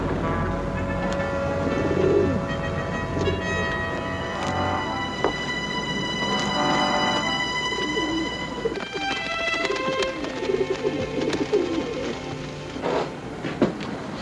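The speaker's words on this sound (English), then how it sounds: "Stay away from those pigeons, huh?" Pigeons coo close by in a World War II drama setting, soft rolling calls repeating at irregular intervals over a light background patter, with no speech.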